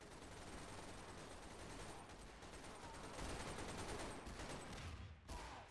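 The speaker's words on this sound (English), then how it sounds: "He's pumping his shotgun." Shotgun blasts and other gunfire in Garry's Mod during a SWAT versus zombie creature battle, a continuous busy clatter of shots, fairly faint, swelling midway and dipping briefly before the end.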